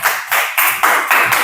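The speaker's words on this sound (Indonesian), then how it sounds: "Bagus sekali, tepuk tangan." A school class claps in unison, five loud, evenly spaced rhythmic beats close by, with no talking.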